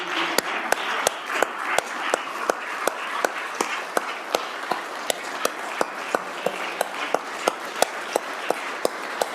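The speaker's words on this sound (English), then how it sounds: "So I wanted to stand up and give them a round of applause as well." Applause fills a legislative chamber, with brisk claps from a crowd of lawmakers welcoming Wyoming teachers seated in the gallery. The clapping holds steady and fairly loud for about nine seconds, marked by sharp individual claps.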